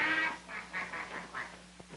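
A series of five or six nasal quacks in quick succession, close and fairly faint, matching a duck in an old 1939 film scene; the quacks may come from a person imitating a duck.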